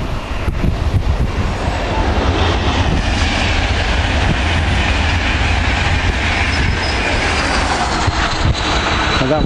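A train passes at Werrington Junction with a loud, continuous rumble and rolling rail clatter, heavy wind buffeting the microphone throughout, close to the line.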